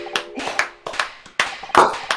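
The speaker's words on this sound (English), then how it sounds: "he's doing the big slow claps" Slow, deliberate hand claps from a character in The Great Ace Attorney Chronicles 2 video game, about six sharp claps spaced evenly, loud and close with no talk over them.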